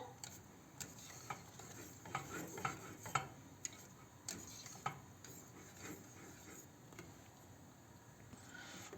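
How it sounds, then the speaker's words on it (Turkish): A spoon stirs thickening pomegranate lokum in a pot, making soft irregular scrapes and light knocks against the pan over a faint bubbling, quiet and close with no talk. "Bu aşamada kaşıkla karıştırmak daha kolay oluyor arkadaşlar."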